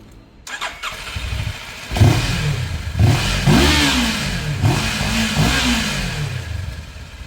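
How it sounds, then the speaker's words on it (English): A CFMOTO 700MT motorcycle with a 180-degree crank starts and is revved repeatedly, four sharp rising blips over a rumbling idle, close and loud with no talk. "Let's listen to the engine."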